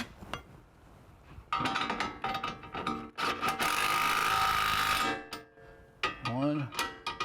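A ratchet tool rapidly runs down nuts while a car drive axle is being reinstalled in a garage, loud close bursts of clicking and whirring with brief pauses, ending in a quick ratcheting sweep.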